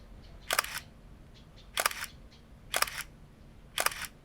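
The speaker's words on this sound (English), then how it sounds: "Can lower down the shutter of the camera by making it darker here." Shutter of a Canon EOS 3000v 35mm film SLR camera firing four times at roughly one-second intervals, each a crisp, close mechanical click in a quiet room.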